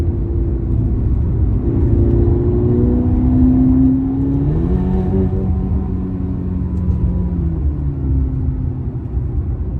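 A Ferrari GTC4Lusso T engine while driving on a one-lane road, a loud, deep continuous drone that rises in pitch as the car accelerates and then settles lower after a shift, with no talking.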